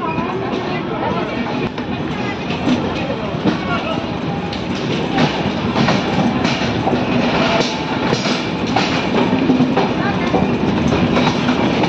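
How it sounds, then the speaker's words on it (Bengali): Howrah–Patna Jan Shatabdi Express (12023) running on rails near Madhupur Junction, a steady loud rumble of wheels and carriages continuing throughout, with some talk faintly mixed in. "আমাদের ট্রেন এসে পৌঁছালো মধুপুর জংশন"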